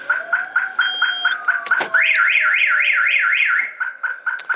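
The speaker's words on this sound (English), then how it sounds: "Forgot it has an alarm system that was on." A Nissan R32 Skyline GT-R's car alarm blares nearby, rapid repeating beeps shifting into a loud warbling siren that wails steadily before stopping.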